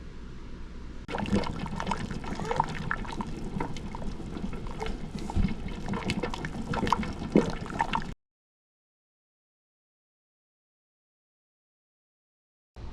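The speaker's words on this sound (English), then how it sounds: "I'm just going to go ahead and scrape that into a jar that we can enjoy right away" Leftover peach jam being scraped from a cooking pan into a jar, heard as steady wet scraping and sticky liquid sounds for about eight seconds before the sound cuts out into silence.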